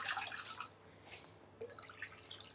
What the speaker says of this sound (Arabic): كده حطينا 4 كوبايات مية دافية